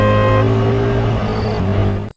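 Cartoon sound effect of a car braking to a halt on an empty road, a loud sustained tonal whine that drops in pitch and cuts off abruptly.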